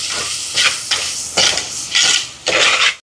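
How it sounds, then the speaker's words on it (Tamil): Onions and green chilies with curry leaves and cinnamon stick sauté in a hot pan for biryani. A steady sizzle runs beneath about six loud, rhythmic stirring scrapes of a spoon against the pan. "பச்சை மிளகாய் இதோட வெங்காயம் இது வந்து வதங்கட்டுக்கும்"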